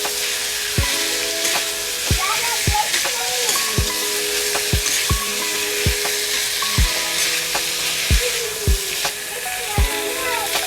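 Boiled pork sizzles loudly in a pan on a low flame as a spoon stirs it, with regular knocking scrapes every second or so over a constant frying hiss and no talking.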